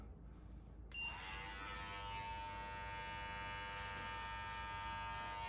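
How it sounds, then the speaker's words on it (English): An electric clipper switches on with a sharp click and settles into a steady high buzz while trimming the top line of a sideburn, faint and close with no talk. "So you can hear just a little bit of hair is being cut."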